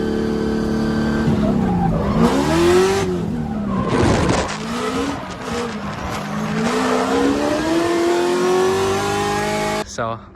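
Supercharged LS V8-swapped Scion FR-S drift car ripping hard, its loud engine note climbing and falling through revs, with tire squeal and skidding, close and continuous before cutting off abruptly at the end.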